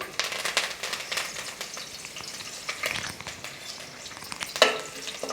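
Green chillies and curry leaves spit and crackle in hot oil, a busy close sizzle with sharp pops scattered throughout and a louder burst near the end.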